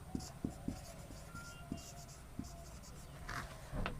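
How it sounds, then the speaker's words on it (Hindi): A pen writes by hand during a physics lesson on refraction of light, scratching softly in short strokes and taps while someone speaks over it. "आइए लिखते हैं।"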